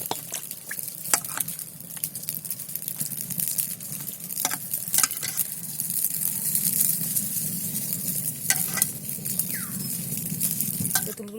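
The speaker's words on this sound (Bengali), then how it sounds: "কড়াইতে আমার তেল গরম হয়ে গেছে কড়াইতে প্রথম দিয়ে দুটো শুকনো লঙ্কা" Two dried red chillies frying in hot mustard oil in a kadai, a steady close sizzle with scattered crackles and pops, stirred occasionally; no one speaks.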